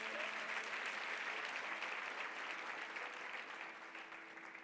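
A church congregation applauding during a Spanish-language sermon, a sustained wash of many hands clapping at moderate distance, steady throughout and tapering slightly at the end, with no voices over it.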